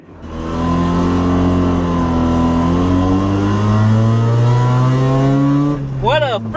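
Mazda RX7 engine running steadily and revving, a loud close rotary drone with rising and falling harmonics throughout, briefly dipping near the end as a sharp rev climbs and drops.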